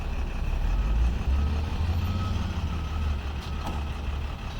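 Tow truck loading a wrecked, totaled car, with a heavy diesel engine rumbling steadily up close and a few faint reversing beeps near the end.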